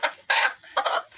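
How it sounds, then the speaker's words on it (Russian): A three-month-old rooster clucks in three short, close bursts with brief pauses between, fairly loud and alone. "а теперь это петушок. 3 месяца."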